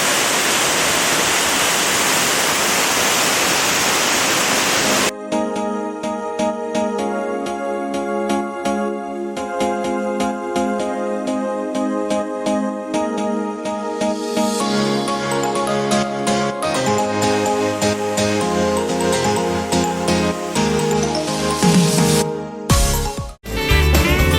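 Etah waterfall in Karo Regency gives a steady, loud rushing roar for about five seconds before music takes over for the rest.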